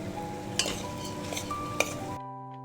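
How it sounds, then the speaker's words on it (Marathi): Moth beans being stir-fried in a tomato masala in a pan, with a few sharp clinks of a spoon against the metal over a low steady background, then a sudden cut to near silence. "आता आपण मटकी घालूया आणि मटकी मसाल्यामध्ये परतून घेऊया।"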